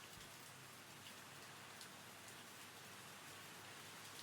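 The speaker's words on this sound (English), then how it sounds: "It is really raining right now." Steady rain falls continuously in a thunderstorm, a dense even hiss of drops on surfaces with no pauses and no voices.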